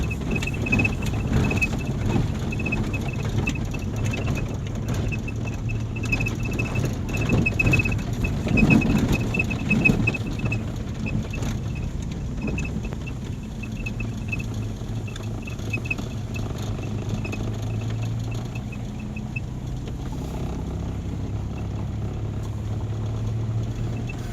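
A car's engine drones low and steady from inside while driving, a muffled hum with faint road rumble and small rattles, moderately quiet and without talk.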